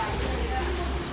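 Crickets kept in a breeding box give a continuous, shrill, close chirring drone that holds steady and loud throughout.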